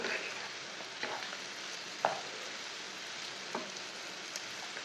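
Spices roasting for a bhindi dish, with a soft, steady sizzle in a pan and a few faint taps or stirs, quiet and close throughout.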